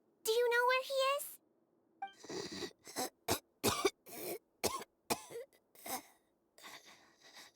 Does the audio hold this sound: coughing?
yes